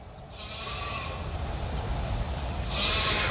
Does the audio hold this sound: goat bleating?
yes